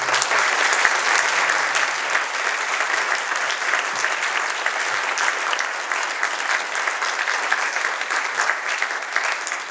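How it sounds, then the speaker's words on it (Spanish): Sustained audience applause for a baroque ensemble at a Holocaust remembrance ceremony in a museum, a dense, steady wash of many hands clapping, evenly loud throughout with no pauses. "les pido otro aplauso por todo lo que hicieron"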